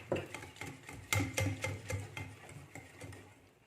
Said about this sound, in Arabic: ونكمل نخلط.